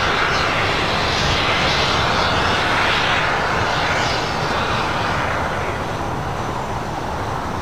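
An airliner takes off from runway 25 right at LAX, a loud, steady, broadband jet engine roar filling the whole stretch, slowly easing off toward the end.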